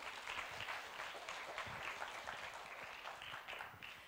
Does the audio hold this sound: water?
no